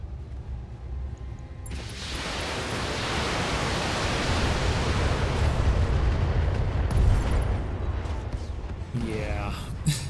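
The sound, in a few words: mech exploding in the video game BATTLETECH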